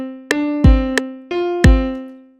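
Programmed drum pattern in FL Studio, deep booming kicks alternating with sharp snare-like hits in an even loop over a sustained tone, loud and clean.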